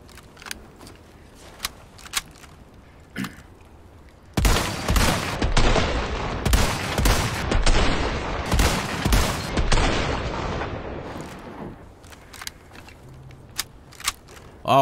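A weapon in the Resident Evil 4 Remake fires a long rapid burst, loud and close, after a few isolated shots, then trails off into single scattered reports.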